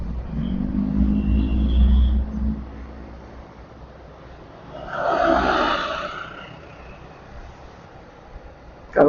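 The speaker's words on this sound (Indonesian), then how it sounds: "hati-hati guys kalau banyak mobil dump truck tuh kayak gede kayak gini, hindari blind spot" A large dump truck passes on a busy night highway, its deep engine rumble swelling and fading beneath steady road noise, with a broadband roar of tires building to a peak midway before receding.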